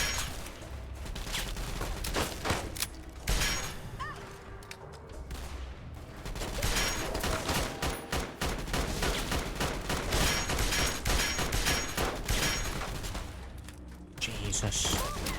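Dense bursts of rapid gunfire crackle through a firefight in the video game Fallout, with volleys and single shots layered over one another almost continuously, and a player talks now and then over the shooting.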